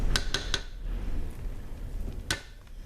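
A spoon scrapes the sides of a soap mixing container holding bentonite clay and activated charcoal facial soap batter with shea butter: three quick clinking taps at the start, soft scraping, then another tap near the end, close and quiet.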